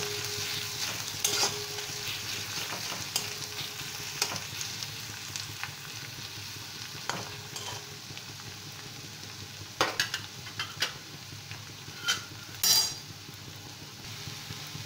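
Onion and crushed garlic fry together in a pan while being stirred, a soft continuous sizzle broken by scattered spatula scrapes and a few light clinks against the pan, quiet and close.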